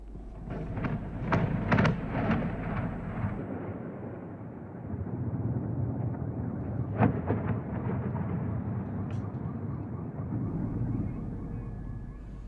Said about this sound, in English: Eyewitnesses captured the explosion as a loud blast rocked the sky, sending debris flying.